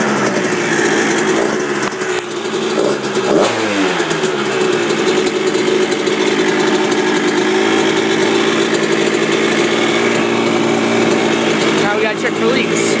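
A 1990 Honda CR125 two-stroke motorcycle engine runs steadily after a cylinder head install, a buzzing high-pitched idle with slight revving near the start, close and loud, with a voice talking over it.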